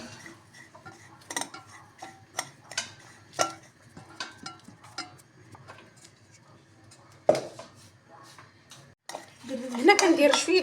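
Semolina and thyme are stirred together in a bowl, producing scattered clinks and scraping taps of a utensil against the dish, sparse at first and then louder, busier scraping near the end, with no talking.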